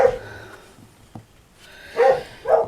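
Dogs barking at a house, a few short barks and yips spread across a brief moment, fairly close with quiet gaps between.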